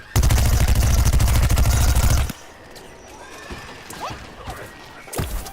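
Rapid Gatling peashooter fire from the shooter Plants vs Zombies Garden Warfare, a loud close stream of shots for about two seconds, then quieter game sounds and a brief final burst.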